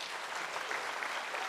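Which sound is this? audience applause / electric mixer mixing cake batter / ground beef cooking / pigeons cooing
audience applause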